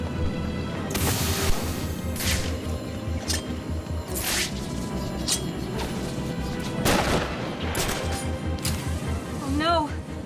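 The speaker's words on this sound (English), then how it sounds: "There are snipers everywhere." Scattered sniper gunshots and impacts in the Batman Arkham City video game, sharp bursts cutting through a dense mix of game music and ambience, with a character voice talking throughout.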